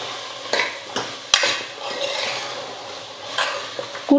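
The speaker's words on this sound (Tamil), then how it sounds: "எல்லாம் சேர்த்ததுக்கப்புறம் ஒரு நிமிஷம் நல்லா வதக்கிக்கலாம்" Kurma with potatoes and peas is sautéed in a pan. A spoon scrapes and clacks against the metal in irregular strokes over a light, continuous sizzle.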